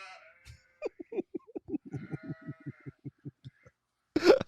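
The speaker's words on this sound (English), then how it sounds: "What did the sheep say?" Sheep bleating in a long, rapid, stuttering run of about twenty evenly spaced pulses, fairly close, followed by a brief louder burst at the end.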